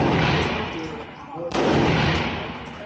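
Rifle shots from an AK at an outdoor gun range, two loud, booming reports with long rumbling tails, the second a sharp onset about halfway through, close and dominant over the range noise.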